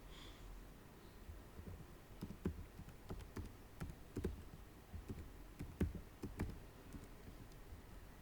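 Typing on a computer keyboard while entering text into a blank Excel worksheet, a quiet scatter of soft key clicks arriving in irregular bursts over low room hiss, with no talking.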